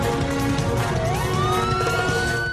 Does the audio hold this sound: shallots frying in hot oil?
no